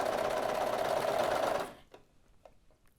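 A Brother 1034D serger stitching knit fabric, a fast, steady mechanical whirring hum that runs for about a second and a half, then stops, followed by faint clicks and handling noise.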